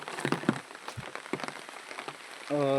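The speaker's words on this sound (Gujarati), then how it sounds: "અત્યારે અમારા ગામમાં વરસાદ ચાલુ છે, જોઈ શકો છો" Steady rain falls in a village in Akli, Devgadh Baria, a broad hiss of drops on surfaces with scattered louder spatters, carrying on throughout with no talk.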